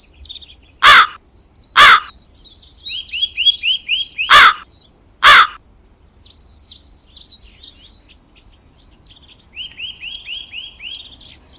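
Crows caw loudly four times in separate bursts, while smaller birds chirp and twitter throughout, the calls sounding near and clear.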